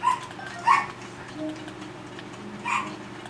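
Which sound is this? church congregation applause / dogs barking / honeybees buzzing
dogs barking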